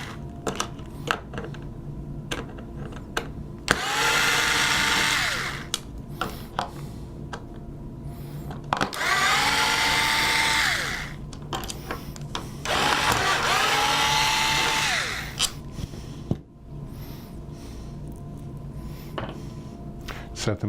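A power drill backs out the four screws holding a platform assembly during a rear motor replacement. Three loud whirring bursts of a few seconds each ramp up and wind down, separated by clicks and handling noises nearby.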